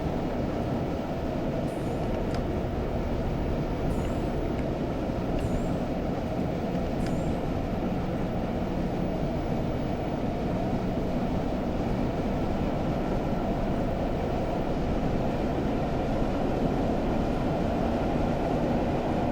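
Train running along a railway route in Train Simulator, on a Stour Valley line branching toward the Colne Valley section near Haverhill; a steady, continuous rumble of wheels and carriages throughout, with a few faint high squeals early on.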